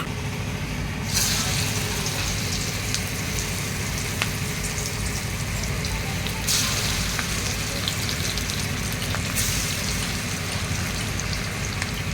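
Lentil fritters fry in hot oil in a pan, making a loud, dense, continuous hiss and crackle with a few brief sharper flares.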